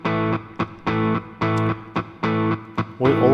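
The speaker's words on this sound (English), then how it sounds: "here we need to change our overdrive to the distortion" Distorted electric guitar riff from BlueARP guitar mode, rock style: chopped, chugging power-chord stabs in a steady syncopated rhythm, loud and upfront, ending on a sustained ringing chord.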